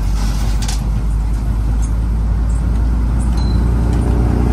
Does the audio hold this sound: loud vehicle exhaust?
yes